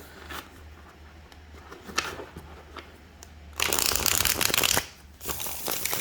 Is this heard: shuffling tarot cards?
yes